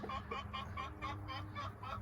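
Free-ranging egg-laying chickens cluck and squawk in a rhythmic series of about eight loud, close calls, with a faint low hum underneath.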